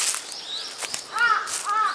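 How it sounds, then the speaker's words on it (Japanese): Several crows caw near an ancient burial mound in an outdoor setting, harsh repeated calls that overlap, some close and loud, with no talking. "これカラスがすごいぞ。"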